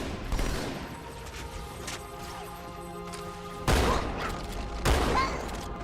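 A shotgun in Halo 2 blasts three times: a shot near the start, then two heavy booms a second apart late on. Background game sounds and faint voices fill the gaps.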